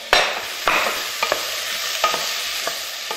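Steady sizzling in a hot pan as ingredients sweat during a chef's recipe, with a continuous crackle broken by several sharper pops and stirring scrapes, close and moderately loud with no talking.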